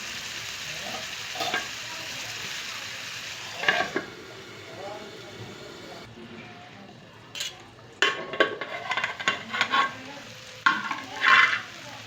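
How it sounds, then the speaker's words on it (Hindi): Tomatoes half-fried in a pan for coriander tomato chutney give a steady close sizzle, with utensil stirring scrapes and clatters that grow busier and louder toward the end. "टमाटर देखिए हाफ फ्राई हो चुके हैं।"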